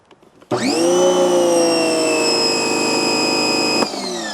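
A Draft Tools pressure washer motor starts abruptly and runs with a steady, loud whining drone close by, during a car wash.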